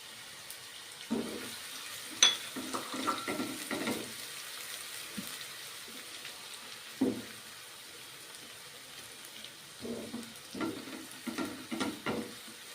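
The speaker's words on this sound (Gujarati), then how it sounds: "ત્યારબાદ લીલી ડુંગરી એડ કરીશુ" Green onions frying in a pan for a dry tuver curry: soft sizzling with scattered bursts of stirring and scraping, quiet overall and coming in uneven clusters with short lulls between them.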